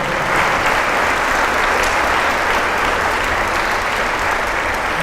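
Sustained applause from an audience at a Catholic church talk, dense steady clapping filling the room at full strength for the whole stretch without a break.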